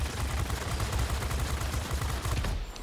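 Dense, continuous machine-gun fire from a P-40 fighter in the World of Warplanes video game rattles steadily in rapid bursts, fairly faint, with no talk over it.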